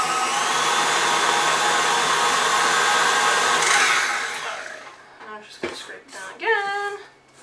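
An electric stand mixer whirs steadily as it mixes the wet ingredients for chocolate chip cookie dough, a loud continuous motor hum that stops midway, followed by clinks and a voice speaking.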